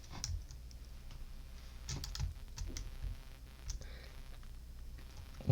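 Light, quiet typing on a computer keyboard, irregular clusters of soft clicks and taps with short pauses between bursts, close but faint.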